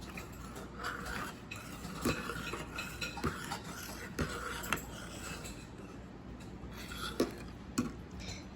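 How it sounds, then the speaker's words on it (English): A spoon stirs masala chai in a pot, with quiet, irregular clinks and scrapes of metal against the pot over a soft background hiss. "And now we will stir it."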